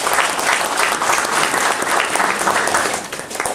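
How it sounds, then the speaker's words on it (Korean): Loud, sustained applause from a large crowd at a 2013 disability sports policy workshop, steady clapping throughout with a slight dip near the end. "큰 박수 한번 드립시다"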